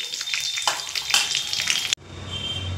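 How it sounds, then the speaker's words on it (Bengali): Chicken pieces fry in hot oil with a bright, crackling sizzle and a few stirring scrapes, cutting off abruptly near the end to a quieter, softer frying hiss. "বাকি চিকেনগুলো একইভাবে ভেজে নেব"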